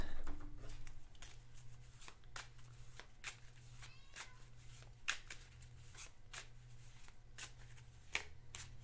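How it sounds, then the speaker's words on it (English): A deck of cards is riffled and bridged over and over in a string of sharp, crisp bursts, close and fairly loud. A low steady hum runs underneath and nobody speaks. "Shuffle these."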